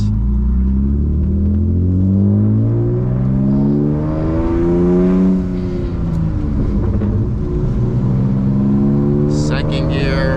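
A manual BMW E36 328i with a loud exhaust accelerates close by, its engine note climbing and falling through gear changes in a throaty, rising drone.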